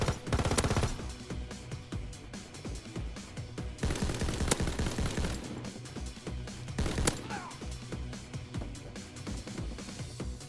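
Repeated bursts of gunfire in the World War II shooter Call of Duty WW2, loud and dense, with short volleys spread across the whole stretch and sharper cracks standing out.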